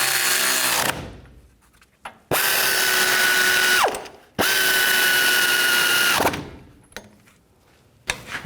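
Power tool or ratchet driving caliper bolts on a GMC Sierra 3500 HD during brake and control arm work, two sustained whirring runs of about one and a half seconds each, close and loud, with clicks and quiet gaps between.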